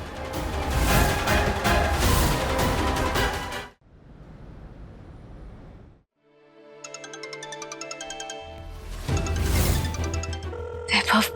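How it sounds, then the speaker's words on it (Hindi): A telephone rings in a Hindi TV drama scene, its repeating electronic ring pulsing between stretches of loud dramatic background music. "वैभव प्लीज फोन उठाओ"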